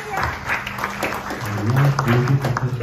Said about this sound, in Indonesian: Beri tepuk tangan bagi Tuhan Yesus